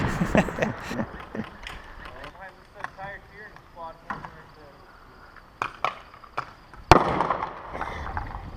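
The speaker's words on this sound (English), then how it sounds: "They threw a banger at him, which outdoors they don't count as kills. They're just distraction devices." An airsoft banger distraction device goes off outdoors during a night milsim game, one sharp, loud crack near the end that stands out over steady talk and scattered rustling and clatter.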